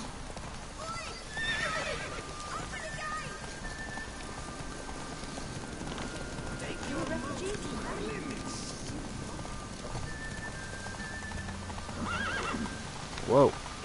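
Roach the horse in The Witcher 3 clip-clops along at a walk, and a whinny or snort comes near the end. Someone talks over the game sounds in places.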